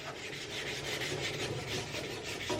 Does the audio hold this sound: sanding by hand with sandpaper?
yes